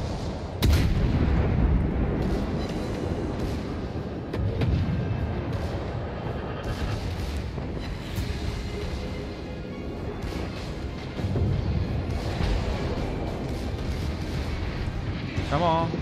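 Warship guns firing in the World of Warships naval battle game, heavy booming salvos and crashing blasts rolling almost continuously at loud level for the whole stretch, layered with dense battle noise.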